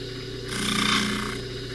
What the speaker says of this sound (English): I've got this on a low speed variable buffer